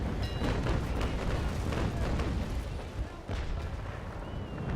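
Frigate cannons fire in a broadside during a naval battle in Naval Action Legends, a dense, continuous rumble of overlapping booms that holds loud throughout with a slight dip near the end.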